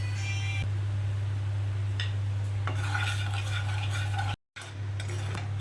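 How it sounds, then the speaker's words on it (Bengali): Semolina roasting in hot ghee in a pan, a steady stirring and scraping with soft clinks of a utensil over a constant low hum, briefly cutting out near the end. "ঘিটা গরম হয়ে গেছে, আমি সুজিটাকে ভেজে নেব"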